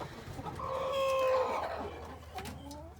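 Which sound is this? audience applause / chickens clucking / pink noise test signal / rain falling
chickens clucking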